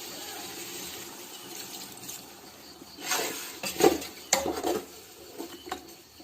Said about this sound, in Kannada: ನಾನೀಗ ಇದಕ್ಕೆ ಒಂದು ಅರ್ಧ ಗ್ಲಾಸ್ ನೀರು ಹಾಕ್ತಾ ಇದ್ದೇನೆ.